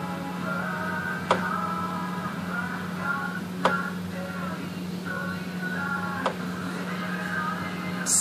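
A Husqvarna Designer 1 sewing machine runs through decorative scallop stitches, giving off a steady mechanical whir with a low hum and fluttering stitch patterns. Three sharp clicks break in at intervals.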